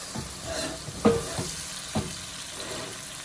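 Tomatoes and kale sautéing in a pan, a gentle hiss of sizzling broken by a few sharp taps and scrapes from a utensil.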